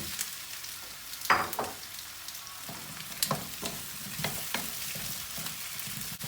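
Potatoes tossed into a pot of onions already sautéed until lightly pink, for a Turkish sulu köfte stew: a steady close sizzle of frying with scattered clanks and scrapes of stirring, no talk.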